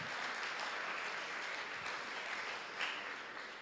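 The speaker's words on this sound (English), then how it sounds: "Let's give them all a round of applause." An audience at the Roslyn High School senior community awards applauds the graduating class of 2023 with steady, dense clapping that fills the hall evenly from start to finish, heard from some distance.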